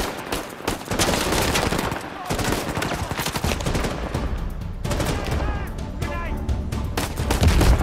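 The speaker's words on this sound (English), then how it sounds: "someone is shooting from behind, I guess" Dense, continuous gunfire from a firefight in Uncharted 4: A Thief's End, set in Libertalia, with overlapping shots and blasts throughout under a busy game soundscape.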